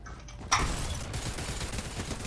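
Video game gunfire: an abrupt loud burst of shots, then sustained rapid automatic fire rattling on steadily at close range, with no voices over it.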